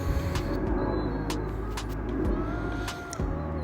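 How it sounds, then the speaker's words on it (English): A school bus passes close by with a heavy, truck-like diesel rumble, a steady loud roar that dips briefly near the end. "School bus sound like a tractor trailer, man."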